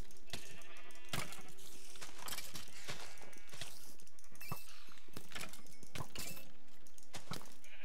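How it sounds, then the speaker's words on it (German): Sheep bleat in the video game Minecraft Hexxit, mixed with dense clattering footsteps and game sound effects that keep running loud throughout. "Schade, dass es hier nur Schafe gibt."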